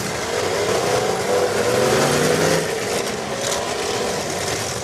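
A race car engine held at very high revs on a track, a loud, sustained roar with a slight dip and swell partway through, with no voices.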